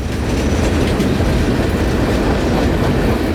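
A train rushes past close by at high speed on the Palmetto Subdivision, a loud steady roar with wheel clatter throughout and no voices.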